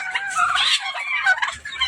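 Turkeys and chickens on a small farm clamor for feed, with overlapping gobbles and squawks rising and falling close by in a busy, continuous burst.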